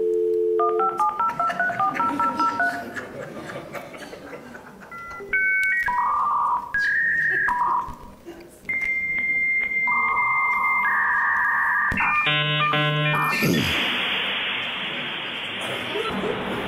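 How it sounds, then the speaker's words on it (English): A dial-up internet modem connects with a rapid string of dialing tones, then a series of shifting, loud handshake beeps and warbles, ending in a harsh hissing screech. "that's how we used to have to dial up the internet"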